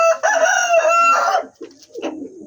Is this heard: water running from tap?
no